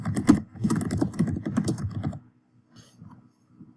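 Fast, dense clatter of typing on a computer keyboard runs for about two seconds and then stops. A few faint, scattered key taps follow in a quiet room.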